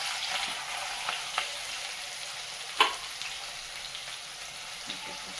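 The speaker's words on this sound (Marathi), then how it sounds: "जिरं टाकते थोडंसं हिंग टाकते नंतर आणि हिरवे मिरची" Cumin seeds, asafoetida and green chilies sizzle in hot oil for a Marathi gavran pithla, a steady close crackle with a few sharper pops, no one talking.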